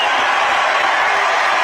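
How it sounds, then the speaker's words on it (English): Rally crowd at a Trump MAGA event in Tempe, Arizona clapping and cheering steadily, a dense, loud wash of applause with scattered whoops sustained throughout. "The whole place, we're going to clap as you leave."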